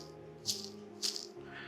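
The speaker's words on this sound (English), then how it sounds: "So the throwout bearing has some wiggle to it and it just makes noise." A worn clutch throwout bearing from a high-mileage Cadillac CTS-V drift car drivetrain with an LS7 slave rattles close up, giving two sharp, loose metallic clatters over a faint background.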